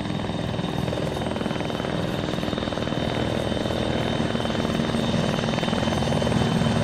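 A helicopter in the video game ARMA 3 drones steadily throughout, a loud, continuous rotor and engine roar with a rapid blade chop, close and constant, with no talking.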